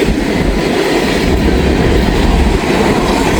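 A Wisconsin Central freight train with open box cars rolls past close by, a loud continuous rumble with rhythmic clickety-clack from the wheels and faint squeals.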